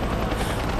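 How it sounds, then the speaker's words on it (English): A helicopter flies close in the video game Rise of the Tomb Raider, a loud, steady rotor roar with a dense rumble that fills the whole moment, and no voices over it. "The helicopter is too fast."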